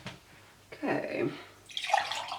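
Fresh water running from a tap into a container for watercolour painting, a short splashing fill that starts partway through and rises toward the end, near and moderately loud.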